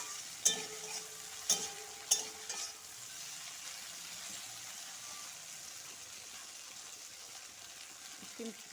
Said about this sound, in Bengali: পেঁয়াজের সাথে ভালো করে ভেজে নিব